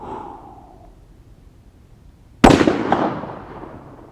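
A single sharp rifle shot from a 24-inch barrel cracks loud and close after a quiet stretch, then trails into a rolling echo with a second faint reflection.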